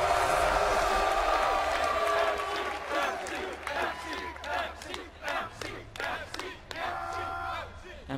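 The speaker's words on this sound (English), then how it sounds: "If you'd like to see him win in game 2, give a cheer for SKMC." A large esports crowd at Red Bull Battle Grounds roars and shouts loudly at first, then the noise ebbs into scattered cheers and whoops mixed with voices.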